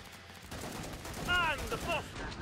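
Gunfire in a shooting video game, sharp repeated shots cracking over a steady background with game tones, while someone speaks over part of it.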